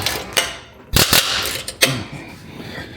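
A tough exhaust bolt on a BMW E46 M3 is worked loose, giving sharp metallic clicks and creaks from the wrench, a few loud cracks among lower scraping and ratcheting noise, close and without talk.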